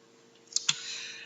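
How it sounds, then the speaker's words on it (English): Two quick, close clicks of a key being pressed on a computer keyboard, the delete key, faint and crisp over a quiet room hum. "Then press delete on your keyboard and that will get rid of everything there on the sheet."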